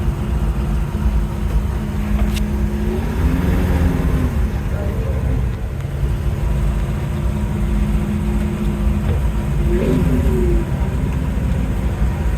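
A 1951 Ford F1 pickup truck with a manual transmission and manual steering drives slowly, its engine making a steady low rumbling drone that rises and dips briefly a couple of times as it runs.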